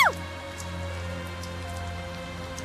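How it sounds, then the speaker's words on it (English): Rain falls steadily in the video game Tales of Zestiria, a soft continuous patter with occasional drips, preceded by a brief falling chime at the start. "Tell us the details after we find shelter from the rain, if you please"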